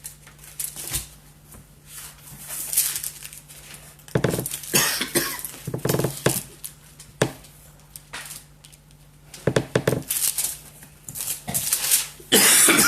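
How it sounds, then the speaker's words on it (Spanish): A man coughs after drinking very cold water, producing a series of harsh, loud coughing bursts in irregular clusters with short pauses between them, close to the microphone and with no talk. "el agua muy fría me está haciendo toser"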